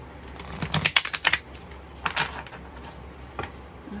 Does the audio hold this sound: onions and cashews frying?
no